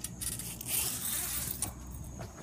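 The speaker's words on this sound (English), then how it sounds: "Let me zipper it up." A zipper is pulled closed, most likely on a backyard tent or enclosure: a rising, raspy zip of about a second and a half sits under steady outdoor background noise, with no speech.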